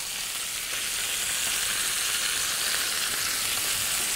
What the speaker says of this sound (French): là on va laisser mijoter pendant quelques minutes